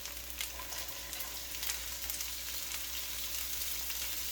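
Bean sprouts frying in a hot pan after being dried well, giving a steady, dense sizzle that holds loud and even throughout with small crackling pops.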